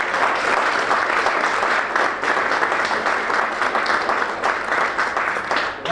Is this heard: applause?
yes